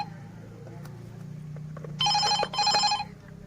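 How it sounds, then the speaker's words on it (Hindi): A telephone rings in two bursts of electronic trilling, close and fairly loud over a low background hum. "फोन आवत है"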